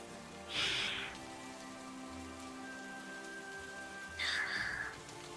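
Rain falls in a bamboo forest as a soft, steady patter, quiet and close, with two brief louder splashes of drops in the middle of the wash.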